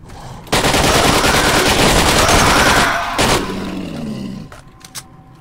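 Sustained burst of rapid automatic gunfire in S.T.A.L.K.E.R.: Lost Alpha for a few seconds, loud and close, followed by a short extra burst and fading echoes.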